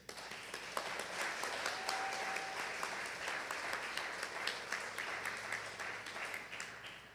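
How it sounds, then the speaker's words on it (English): Audience applause for a graduating class at a school graduation ceremony, sustained crowd clapping heard at a moderate distance, steady and even throughout with no talking. "Give them a round of applause."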